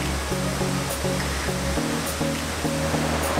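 Powerful Catarata Rio Agrio waterfall in Costa Rica roaring steadily and close, a dense, loud, unbroken wash of water that fills the whole moment, with no voices.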